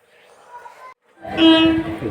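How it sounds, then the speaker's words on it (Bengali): A train pulls into a railway station, its horn sounding and a loud rumble of carriages rising after a quieter stretch of platform ambience. "দেখুন স্টেশনে ট্রেন হয়ে গেছে, এবার এই ট্রেনে উঠবো।"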